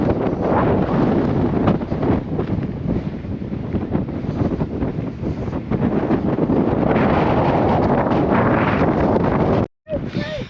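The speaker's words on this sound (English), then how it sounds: "Very windy." Strong wind blows hard across the microphone on an exposed coastal stretch, a loud, constant roaring buffet that persists throughout before cutting out briefly near the end.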